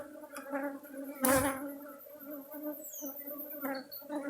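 Honeybees buzzing around hive frames while a colony is moved into a hive, a close, steady, droning hum with a brief louder rustle near the start.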